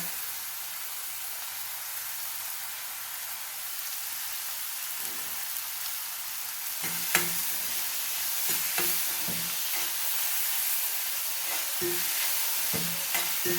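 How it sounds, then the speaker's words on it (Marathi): Tomato and onion sautéing in a pan for bhindi bhaji: a steady soft sizzle with a scatter of sharper clicks and scrapes from stirring in the second half. "आता मी यात टोमॅटो घालते आहे आणि टोमॅटो थोडा वेळ परतून घेणार"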